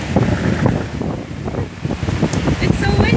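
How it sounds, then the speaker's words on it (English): Strong wind on a blustery day in Iowa buffets the microphone outdoors, a loud, rumbling roar with gusty surges that never lets up. "It's so windy."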